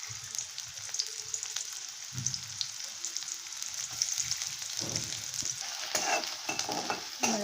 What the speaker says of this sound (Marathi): तेल गरम झाल्यानंतर त्यामध्ये कांदा टाकूया